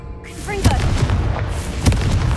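Confringo spell blasts in the video game Hogwarts Legacy: a magical whoosh followed by two loud, booming explosive impacts about a second apart, close and forceful.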